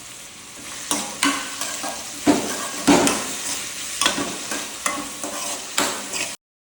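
Two pieces of fish sizzle and fry in a pan with a steady crackle, broken by repeated scraping stirs of a utensil against the pan, close and clear with no talking.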